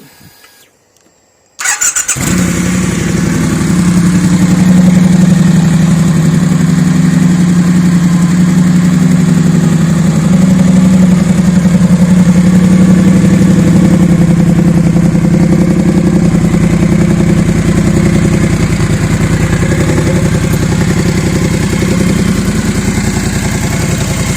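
A Triumph Bonneville T120 starts up and settles into a steady, loud, close idle through loosely fitted Norman Hyde exhaust cans, a continuous low rumble with a slight rattle and no talking over it.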